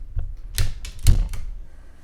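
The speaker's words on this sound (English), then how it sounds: "Let's take the tape off, see what we've got." Painter's tape ripped off a freshly painted wall where dark paint meets white, heard as several short, close tearing strips in quick succession, each a sharp burst with a brief pause between, with no talking.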